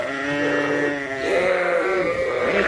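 Lambs around 60 to 90 days old bleat on a sheep farm, with overlapping, loud, nearby calls that continue without a break.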